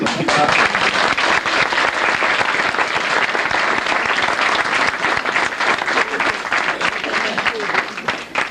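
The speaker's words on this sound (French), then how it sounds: "Je voudrais bien qu'on applaudisse." Loud, dense applause from a carnival crowd at the Martelange carnival enthronement, following the mayor's speech, with sustained clapping throughout that thins slightly at the very end.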